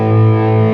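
An electric guitar plays through a Yamaha THR100H dual amp head, a clean tone blended with a crisp distortion underneath, a single loud sustained chord ringing briefly.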